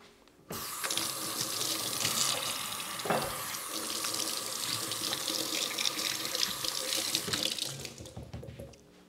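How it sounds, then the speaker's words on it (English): Hands being washed under a running kitchen faucet, a steady, close rush of water that splashes and changes slightly as the hands move, then stops near the end. "I'm gonna go wash the hands again."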